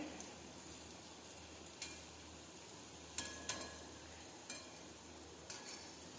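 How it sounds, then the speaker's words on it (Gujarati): Modaks fry in oil over a medium flame as they are slowly turned, a faint, steady sizzle broken by a few sharp clinks of the spoon against the pan. "આ રીતે આપણે ધીમે ધીમે ફેરવતા જઈશું અને તળી લઈશું"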